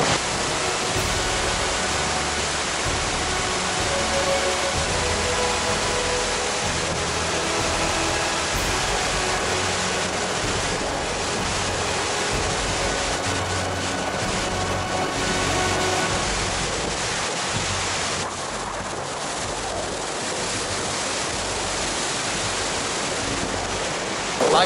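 A flooded mountain river on a high-altitude hike near Kazbegi roars with a loud, unbroken rush of water that stays constant throughout, with no voices.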